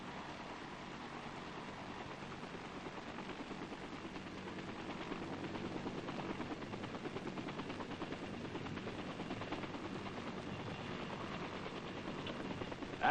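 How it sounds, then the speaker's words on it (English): Military H-21 troop-carrier helicopters circle in flight, a steady rotor thrum and engine drone that swells slightly and holds at moderate distance, with no speech. "The 5 tough little choppers circle to take their places as protectors of the air fleet"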